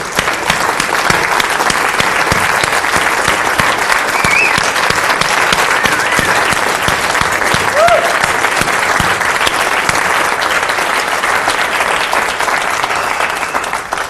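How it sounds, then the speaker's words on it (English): Audience applause at a live advanced dating techniques seminar, sustained dense clapping from a large crowd, loud and close, carrying through the whole stretch with occasional whoops. "Stand up and give yourselves a round of applause."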